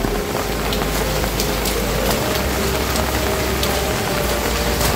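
Steady rain falls hard beside a house after raining all morning. It makes a loud, even hiss of drops hitting surfaces, with scattered sharper patters and no voices.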